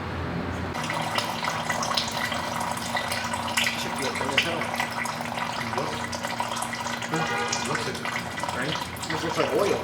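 Thin transmission fluid from a G35/350Z gearbox pours out in a steady splashing stream, continuous and close, while people talk over it.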